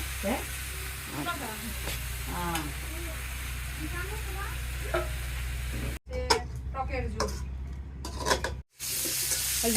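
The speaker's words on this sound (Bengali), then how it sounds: "এখন এই যে আলু ভাজি হইতেছে" Potatoes fry in a pan with a steady, close sizzle and occasional stirring scrapes. A voice talks over the sound at moments, and brief dropouts break the sizzle.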